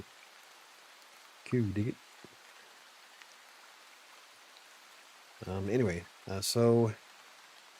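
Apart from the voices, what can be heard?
rain falling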